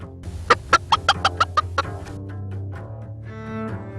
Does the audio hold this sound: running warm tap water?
no